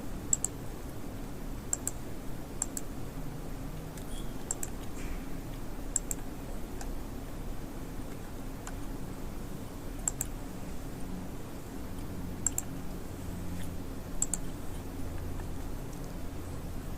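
A computer mouse clicks sparsely over steady room noise, sharp faint single clicks spaced every few seconds, with no voices.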